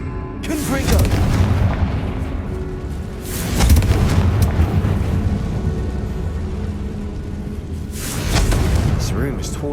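In Hogwarts Legacy, the Bombarda spell explodes inside a tomb, setting off deep, booming blasts in three heavy swells over a low, continuous rumble.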